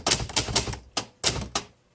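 Keys striking on a 1962 Hermes 3000 Roundtop manual typewriter, a quick burst of sharp close clacks followed by a few separated strikes, then silence; no voices.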